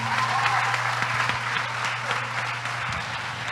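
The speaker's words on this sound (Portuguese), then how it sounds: "eu gostaria aqui que vocês todos dessem uma salva de palmas para os nossos convidados" Applause from a church audience for guests, steady and dense for the whole stretch with a low steady hum underneath, no talking.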